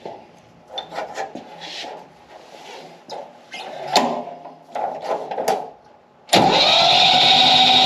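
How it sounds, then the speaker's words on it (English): A Yanmar tractor's diesel engine is cranked with the decompression cable pulled so it cannot fire. Several uneven scraping starter bursts come first, then a sustained loud, steady cranking drone near the end, close by and with no speech. "we pull out on the decompression cable so that the engine won't start, and we're going to crank it"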